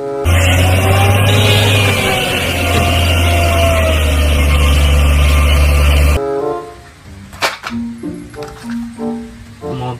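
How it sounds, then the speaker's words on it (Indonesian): A dump truck engine roaring loudly and steadily for several seconds with a deep, droning hum, then cutting off into a quieter stretch of scattered clunks and short tonal beeps. "mobil dam truk."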